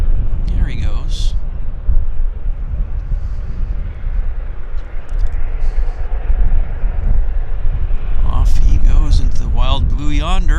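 Airliner taking off at Vancouver Airport, its broad engine roar loud and steady throughout, with voices talking briefly near the start and again toward the end.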